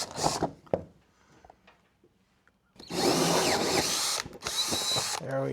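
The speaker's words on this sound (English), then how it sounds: "And here's where my drill came out." A drill with a 3-inch hole bit cuts into the metal wall of a cargo trailer. A few clunks and faint handling noises come first, then loud, sustained grinding bursts broken by one short pause.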